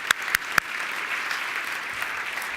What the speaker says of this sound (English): Let's give Frederica another round of applause because she deserves it.